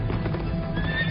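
A black horse neighs with a rising whinny while hooves clop steadily beneath it, loud and close in a brief burst.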